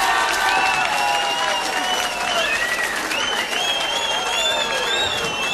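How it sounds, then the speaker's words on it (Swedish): Loud, dense audience applause at a 1989 live entertainment show, a continuous roar of clapping with cheering and high whistles rising over it, sustained at full strength throughout. "Lotta Engberg ska ha en separat applåd."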